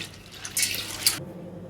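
Chana dal being rinsed in water, a short burst of splashing and trickling at close range that stops abruptly, leaving quiet room tone.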